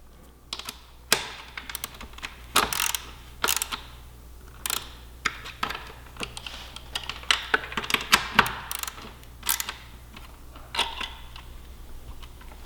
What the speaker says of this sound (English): We will now torque these two fasteners